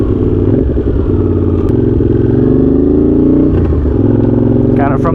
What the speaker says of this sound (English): We'll do another quick rip here, just kind of watch the throttle and see how responsive it is.